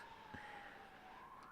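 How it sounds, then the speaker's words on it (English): Faint Sunday-morning sirens outside, a thin steady wailing tone held in the distance under a low background hum, with no voices. "your Sunday morning sirens."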